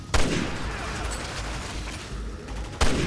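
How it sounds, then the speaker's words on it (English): Two loud, sharp bolt-action sniper rifle shots from Resident Evil 6, one near the start and one near the end, with a steady rumbling game soundscape between them. "We get the bolt action sniper rifle for extra fun."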